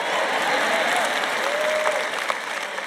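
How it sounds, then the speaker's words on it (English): A crowd at a Christian teaching event claps steadily and loudly, a full round of applause that thins slightly toward the end, with a faint voice rising over it. "When you talk like this, sometimes the women clap, sometimes the men clap."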